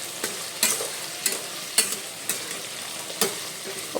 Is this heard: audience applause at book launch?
no